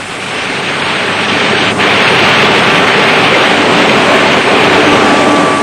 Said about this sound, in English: As the surface of the steel reaches the right temperature, it's quenched by a powerful spray of water.